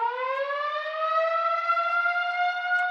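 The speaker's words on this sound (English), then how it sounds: "a damn air raid siren going off." An air raid siren wails steadily, its tone slowly rising, loud and sustained with no other sounds.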